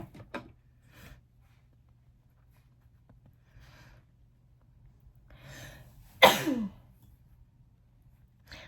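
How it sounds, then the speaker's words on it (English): One sharp, loud sneeze bursts out near the microphone in an otherwise quiet room, preceded by faint breaths and small rustling sounds. "I'm gonna sneeze."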